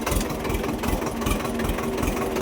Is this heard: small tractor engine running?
yes